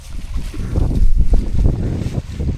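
Wind gusting across an exposed winter hillside on the Edale Skyline in the Peak District, a loud rumbling buffet against the microphone that rises and falls without pause.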